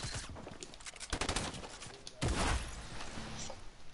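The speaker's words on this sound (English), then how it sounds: "I just got shot." Bursts of gunfire in an online shooter game come as rapid volleys and sharp single cracks, loud and close, with a heavier burst near the end.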